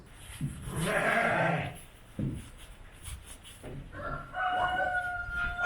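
Lambs and sheep bleat several times nearby, with a rooster crowing toward the end amid farmyard background noise.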